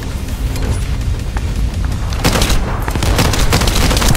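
Gunfire in The First Descendant, a dense stream of rapid shots under a steady rumbling game backdrop, growing louder and more intense partway through.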